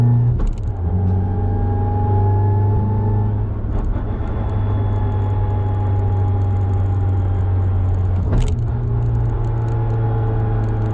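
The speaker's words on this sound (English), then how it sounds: "Now you can hear the gear whine." A Mk7 Golf R with a six-speed dog box transmission drives in third gear with a steady engine drone and a thin, high gear whine running above it, broken by a couple of brief clicks.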